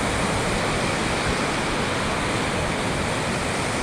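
Waves rolling onto a beach, a steady broad wash of surf noise, loud and continuous with no voices.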